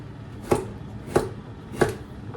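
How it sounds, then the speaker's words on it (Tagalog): A knife chops food into cubes on a cutting board for a toddler's meal, three sharp, evenly spaced knocks close by, with no talking. "Slice natin para gawin natin cubes para hindi mahirap nguyain mga kabady."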